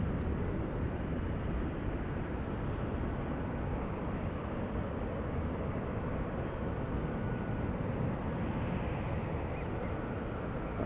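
A Boeing 787 jet airliner at San Francisco airport gives a constant broad engine roar, steady and moderately distant, sustained for the full stretch with no talking over it.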